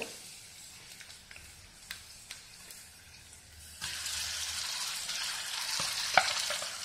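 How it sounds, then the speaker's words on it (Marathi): A paste of green chili, garlic, ginger, coriander and coconut is sautéed on low flame: a few faint stirring taps, then a louder steady sizzle as it hits the hot pan. "यात घालून चांगली व्यवस्थित परतून घेऊ। लो फ्लेमवर परतू।"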